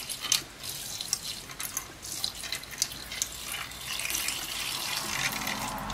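Hot tap water runs from a faucet for rinsing a PCB, a continuous splashing stream with irregular spatters and drips, close and fairly loud, with no speech.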